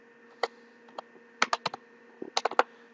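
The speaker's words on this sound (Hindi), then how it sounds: "उस कोड को हम टाइप करते हैं" A verification code typed on a computer keyboard: a single tap, then two quick bursts of crisp key presses, close and distinct against a quiet background, with no speech.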